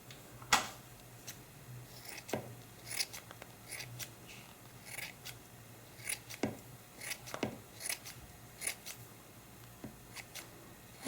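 Scissors snip through the long fur of a handmade powder puff in a quiet room, giving short crisp cuts scattered irregularly, some in quick pairs, with no voices.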